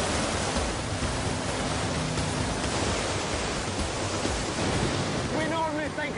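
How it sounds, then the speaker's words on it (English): A tidal surge rolling upstream along a river, a dense, continuous roaring wash of turbulent water that stays loud and steady throughout with no voices. "the power, the tidal surge here, means that it goes upstream."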